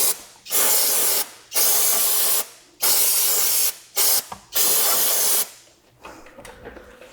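Brake cleaner sprayed from an aerosol can onto spilled engine oil beside an Acura NSX during an oil change: several sharp, loud hissing bursts of about a second each, separated by short pauses, close up and with no talking.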